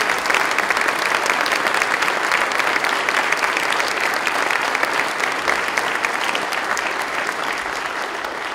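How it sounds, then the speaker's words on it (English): A large audience at a university state budget signing event gives sustained, loud applause, dense clapping that continues steadily throughout without pause. "Let's give the President a round of warm applause."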